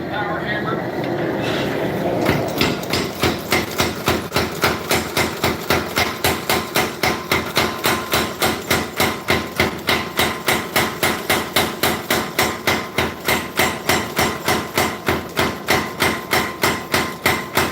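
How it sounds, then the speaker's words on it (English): A power hammer pounds steel while forging the guard of a Bowie knife, a rapid, steady run of loud, evenly spaced blows that starts after about two seconds of quieter shop noise and keeps going to the end. "Then to the power hammer."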